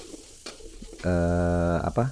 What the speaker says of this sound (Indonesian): Kita akan goreng, kita akan masak minyak ini untuk bumbu halus.